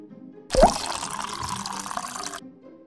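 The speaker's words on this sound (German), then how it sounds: "Hier kommt das Wasser rein." Water poured into a toy coffee machine makes a steady close trickle that starts with a splash and runs for about two seconds, then stops.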